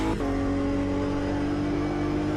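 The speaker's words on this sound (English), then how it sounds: "that engine doesn't sound great from the inside" GT3 race car engine heard from the cockpit in a racing video game, a loud, steady flat-plane drone holding a constant pitch throughout, with a brief shift in tone near the start.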